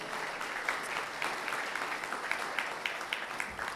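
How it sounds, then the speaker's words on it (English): Steady applause fills a Polish-American banquet hall for the Grand Marshal of the Pulaski Day Parade, a dense, even clatter of many hands lasting throughout. "One more round of applause for Darek."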